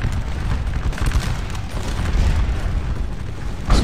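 Infantry musket volleys roll across the Waterloo battlefield in Scourge of War, a continuous rumbling crackle of massed gunfire with low booming weight, loud and steady, ending in a sharper burst.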